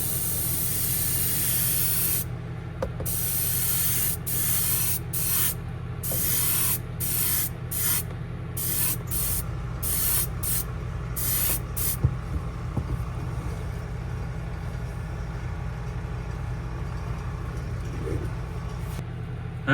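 Steady aerosol spray hisses almost continuously as transparent dark brown paint goes onto the top of a shad fishing lure, broken by several short pauses in the first half, close and loud with no talking.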